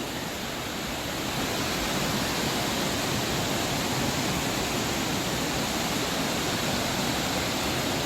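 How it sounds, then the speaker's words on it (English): Waterfall number 2 at Cloudland Canyon State Park, carrying heavy water volume after recent rain, plunging off a cliff into a pool among big boulders: a loud, steady, close roar of rushing water that never lets up. "This is Waterfall number 2."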